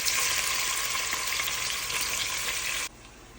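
Onions for Kozhikode biryani fry in hot oil with a loud, dense, even sizzle close by. It drops suddenly to a quieter hiss near the end, and no one talks.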